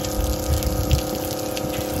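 A John Deere 25-gallon towable sprayer pumps water through its boom, a loud, close, steady mechanical pump hum under gushing and splashing water, with a couple of low thumps and no voices.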